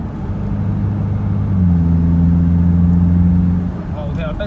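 A Luxgen U7 22T turbo SUV with aftermarket ARMA remote-controlled exhaust valves, valve closed, revs below 3000 rpm: a steady low engine drone rises in pitch midway, holds, then eases off, fairly close.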